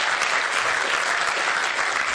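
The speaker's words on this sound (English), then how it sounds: "give yourselves a round of applause for the sacrifice you made" Audience applause at a Miami gathering, a dense, steady wash of many hands clapping together, loud and continuous without a break.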